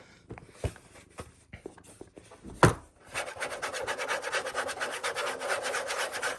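A scratchy plastic Freesat Arris 4K recordable set-top box is handled close up: a few sharp taps and knocks, then a dense rubbing, scraping sound of hands over its plastic surface, with no speech.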